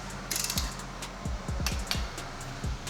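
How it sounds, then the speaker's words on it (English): A torque wrench tightens a spark plug during ignition maintenance, its ratchet giving a series of close, crisp clicks in short bursts with pauses between pulls. "Set your torque wrench to 133 inch-pounds"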